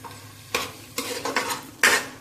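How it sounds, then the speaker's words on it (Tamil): Chopped onion sautéing in a hot pan with masala and cumin for mint rice, loud close sizzling with several sharp stirring bursts and no talk. "இப்போ வெங்காயத்தை போடுறேன்."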